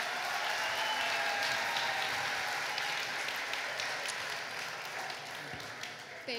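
Audience applause for the singer at a Toronto Police welcome concert for newcomers from Afghanistan: steady, dense clapping from a large crowd that holds at an even level, then tapers slightly at the end.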